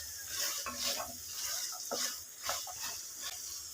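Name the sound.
stirring soaked white chickpeas into gravy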